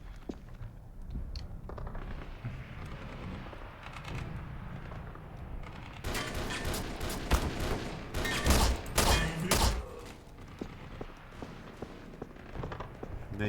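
Bursts of gunfire from the video game E.Y.E.: Divine Cybermancy, loud rapid volleys clustering in the second half over a constant game background rumble, with no talk.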